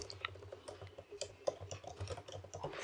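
Rapid, steady keystrokes on a Mac keyboard as a git commit message is typed, a soft, close clatter of light clicks with no talking.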